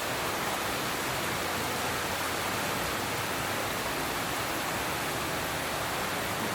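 Heavy rain pouring down outside a home, a steady dense hiss that fills the whole clip without a break, loud and close, with no talking.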